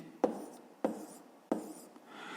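Pen or pencil marks being written by hand during a fifth-grade maths lesson, three short scratchy strokes about half a second apart, close and fairly quiet with no talking.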